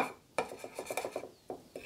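A utensil scrapes and stirs rose dusting powder into a homemade herbal deodorant, a close series of quick rhythmic rasping strokes with a couple of sharper clinks against the container.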